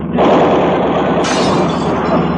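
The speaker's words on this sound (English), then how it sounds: "broken glass" Glass breaking and shattering in a loud, close crash that spreads into a sustained spray of falling shards, with no voices over it.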